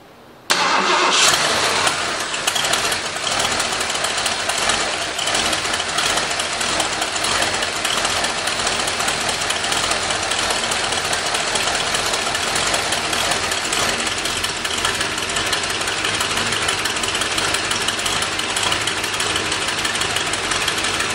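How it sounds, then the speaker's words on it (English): A 1977 Ford Highboy truck engine cranks and catches on fuel in the carburetor bowl, then runs steadily with a loud, continuous rumble close by for the rest of the stretch, with no talk. "We'll see if we can get it to start and run on just the fuel that's in the bowl."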